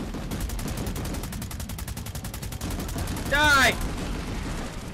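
Rapid automatic gunfire rattles in a fast, even stream during Planetside 2 gameplay, and a short rising whine cuts through near the end. A player's voice shouts briefly over the shooting.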